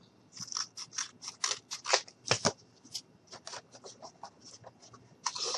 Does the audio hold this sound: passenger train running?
no